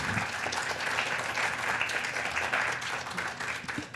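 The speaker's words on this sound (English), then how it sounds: "can we please give a round of applause for Adrienne?" A steady round of applause from the audience at a Cultural Thursday event on Indigenous entrepreneurship, dense even clapping lasting several seconds, moderately loud and without speech.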